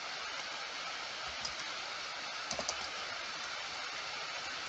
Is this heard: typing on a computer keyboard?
yes